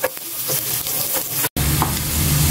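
Chopped garlic browning in hot cooking oil in a pan, a steady close sizzle with scraping stir strokes and a brief dropout midway, no voices.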